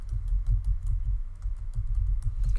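Someone types on a computer keyboard in a quick, uneven run of close, crisp keystrokes that continue for a couple of seconds with no voice over them.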